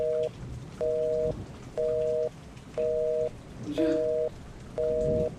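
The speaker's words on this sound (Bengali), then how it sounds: "সালা 3-4 দিন ধরে একটানা বৃষ্টি হয়েই চলেছে" Steady monsoon rain hisses continuously in the background while a phone's electronic tone beeps in six evenly spaced pulses over it.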